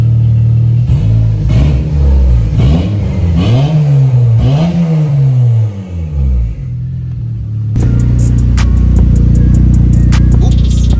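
A boosted Honda Civic engine runs with an uneven, surging idle, its pitch rising and dipping in repeated swells for several seconds, loud and close, before the sound shifts to a steady, harsher drone.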